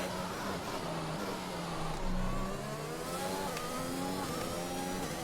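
Simulated Formula 1 car in F1 2021 around the Monaco circuit, its engine note climbing steadily through gears with rising whine and brief shift dips, loud and continuous with no talk.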